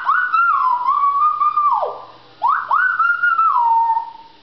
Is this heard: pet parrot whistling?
yes